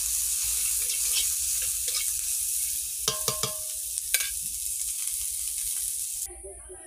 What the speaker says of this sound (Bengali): পেঁয়াজ আর 5 ফোড়ন একটু নুন দিয়ে ভেজে